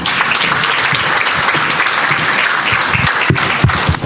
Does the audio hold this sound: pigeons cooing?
no